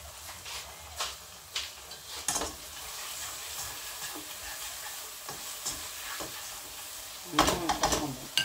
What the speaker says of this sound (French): Et vous mélangez le tout.